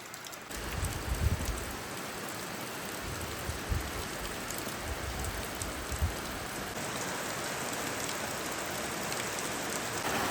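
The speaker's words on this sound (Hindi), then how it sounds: "क्योंकि बारिश हो रही होती है लगातार।" Steady, continuous rain pours down in the mountains, a dense even hiss of drops on surfaces with no pauses or voices.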